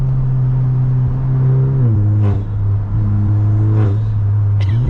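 Audi RS3 8Y engine loud and close, revving and accelerating in a steady drone with two brief dips and surges as the car moves around, no talk over it.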